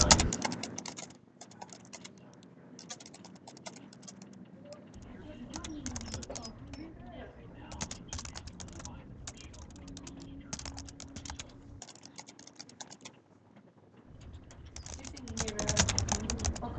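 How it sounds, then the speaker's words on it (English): Steady clicking of computer keys in bursts of typing, close and fairly quiet, with pauses between runs of keystrokes. "I'm just going to go ahead and type in the code here"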